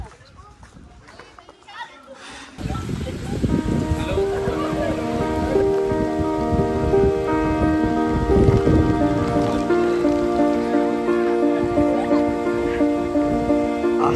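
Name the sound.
rain falling at Purandar Fort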